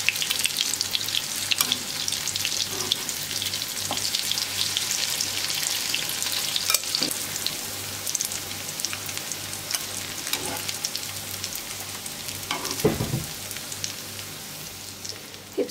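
Steady frying sizzle of zucchini fritters fills the clip, a dense crackling hiss from food in a hot pan, with occasional clinks and scrapes of a utensil.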